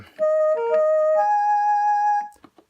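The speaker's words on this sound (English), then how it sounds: "And clarinet." A synthesized clarinet tone from a Belle CK60 home keyboard plays a few smooth, sustained notes, reedy and steady, with no talking.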